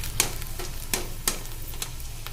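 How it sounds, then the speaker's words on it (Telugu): Dried rice vadiyalu frying in hot oil, a steady soft sizzle with a few sharp crackling pops standing out, close and alone. "గట్టిగా అయిన దాన్ని మనం ఆయిల్లో వేసేసుకొని ఫ్రై చేసుకోండి"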